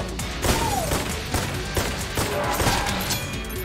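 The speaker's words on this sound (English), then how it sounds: "Stupid flare gun." A flare gun fires repeatedly in Enter the Gungeon, a string of dull popping shots and bursts spaced irregularly over busy game effects, moderately loud with no talking.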